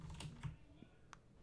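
Faint typing on a computer keyboard while coding in Unity 3D, a few soft, scattered key clicks close by in a quiet room.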